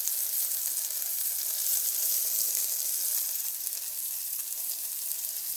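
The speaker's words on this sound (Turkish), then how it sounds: "Kızarım köfteler kızarım bakayım." Steady high sizzling of meatballs frying in a hot pan, a continuous crackling hiss with no talking.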